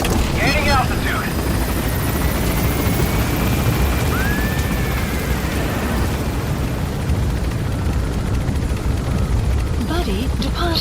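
An extraction helicopter in Metal Gear Solid V climbs away with a loud, steady rotor and engine roar that fills the whole stretch, with a brief voice near the start.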